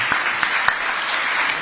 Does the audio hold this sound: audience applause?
yes